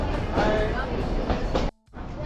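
The Ooty toy train between Ooty and Coonoor, now hauled by a diesel engine, rumbles loudly along the rails with a steady rolling roar, then briefly cuts out before the noise resumes.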